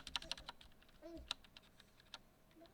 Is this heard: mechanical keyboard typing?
yes